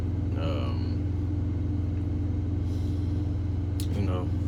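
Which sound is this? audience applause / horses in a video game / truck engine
truck engine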